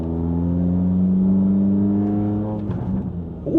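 A Honda Fit RS GK5 facelift with a six-speed manual revs hard under acceleration, a steady rising engine whine that holds, then drops off abruptly as the driver shifts, heard from inside the cabin.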